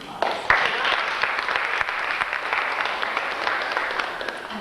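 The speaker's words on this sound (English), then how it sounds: "I think they deserve another round of applause." Sustained applause from a live audience at a poetry evening for the Haraka Writers, a dense steady wash of many hands clapping alone, fairly loud, lasting several seconds.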